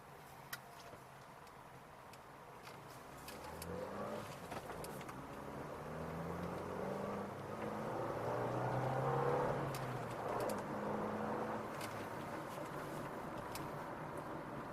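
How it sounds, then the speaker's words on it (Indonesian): A Suzuki XL7 Alpha 2020 accelerating hard on an empty road, its engine note climbing steadily in pitch toward about 4000 rpm, a continuous rising drone with no talking. "Sekarang mumpung jalanan kosong, saya coba aja akselerasinya sekalian."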